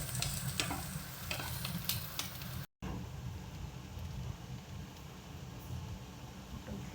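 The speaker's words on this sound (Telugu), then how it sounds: "ఇది ఒక fried rice, Chinese fried rice" Chinese fried rice being stirred and fried in a pan, a steady close sizzle with repeated scraping stir strokes, a brief dropout partway through, no voices.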